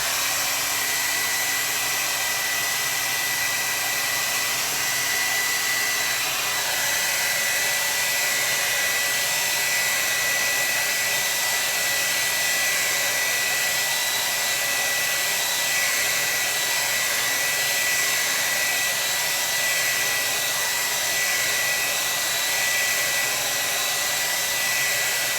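A hair dryer blows steadily to dry a watercolor painting, producing a loud, continuous close-up whoosh that holds without a break for the full length.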